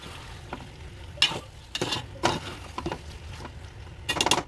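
Tomatoes, ginger garlic paste and curry leaves are stirred in a sizzling pan for a potato curry, with irregular scraping and clinking strokes over the steady frying hiss.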